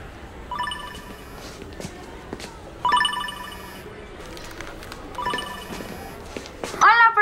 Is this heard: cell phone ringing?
yes